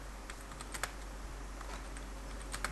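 Fingers type on a computer keyboard, sending quiet scattered key clicks over a steady low hum while code is entered, close and faint, with no one talking.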